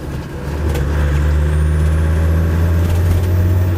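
A modified Land Rover Defender drives along with a steady, loud engine drone and low rumble, continuous road and cabin noise throughout, no talking.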